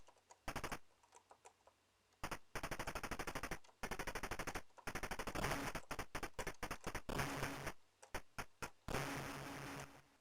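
Torpedoes fire in an Amstrad computer game as harsh, rapid-fire electronic bursts that come in several separate volleys with short silent gaps between them. The bursts are crisp and loud, and no one speaks over them.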